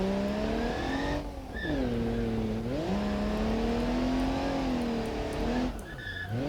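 An ETK i-Series car in the BeamNG.drive game revs and accelerates, its engine tone climbing and dropping through gear changes, loud and close, with brief tire squeal and no talking.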